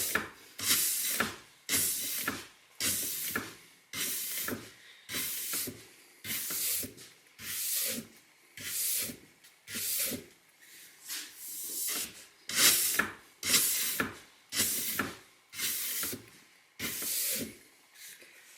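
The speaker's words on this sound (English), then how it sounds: "it's not a polishing brush, very effective at removing small amounts of surface wax and at cleaning structure" Oval straight steel brush scrubbing along a waxed ski: about eighteen evenly spaced rasping strokes in a steady rhythm, close and clear, with no talk.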